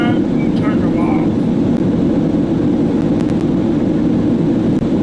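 Jet aircraft engine with afterburners in Flight Simulator 2020: a loud, continuous low roar that holds steady throughout, with faint voices mixed in.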